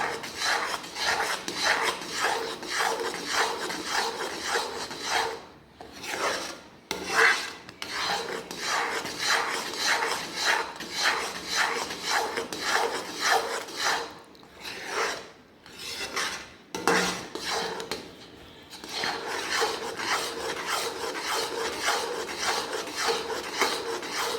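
Almond halwa being stirred continuously in a pan, a steady rasping, scraping drag of spoon against the pan that runs almost without pause, with a few short gaps.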